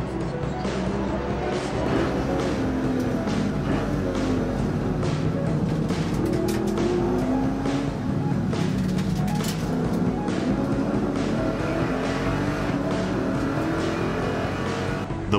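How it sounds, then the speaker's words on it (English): Race cars, including a Lexus ISF, pulling away at the start of the Nürburgring 24-hour race, engines roaring steadily and loudly throughout with overlapping passes and crowd or commentary noise mixed in. "The Lexus ISF with Kazunori Yamauchi at the wheel made its start."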